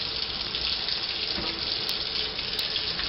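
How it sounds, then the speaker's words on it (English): Hot water pours steadily into a beer brewing vessel during a homebrew bock batch, a continuous close gushing rush like a running tap, even in level throughout with no talking. "We're gonna continue to put in hot water into this."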